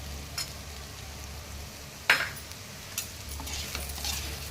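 A spoon stirs meal maker curry with chilli powder in a pan in an Andhra kitchen, giving a low steady background with a couple of sharp scrapes and clinks.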